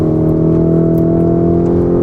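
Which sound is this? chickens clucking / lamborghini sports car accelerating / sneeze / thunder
lamborghini sports car accelerating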